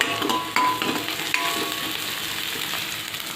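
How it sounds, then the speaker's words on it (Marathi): Chopped green chili dropped into garlic and onion frying in a pan, a soft steady sizzle with a few clinks and scrapes of stirring, fairly quiet. "आता याच्यात आपण चिरलेली मिरची घालूया।"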